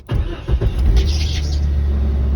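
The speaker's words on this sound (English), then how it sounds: "you can start the car" A car engine cranks and catches, a short starter whir followed by a steady idle rumble close by, with no talking over it.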